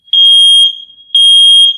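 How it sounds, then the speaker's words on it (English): A smoke alarm sounds two loud, piercing electronic beeps, each roughly half a second long, separated by a short gap, with no talking over it. "somebody's smoke alarm"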